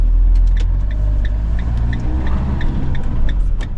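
A car cruises along at steady speed toward a petrol station in Spain, its engine hum and road rumble close and constant throughout with no talk.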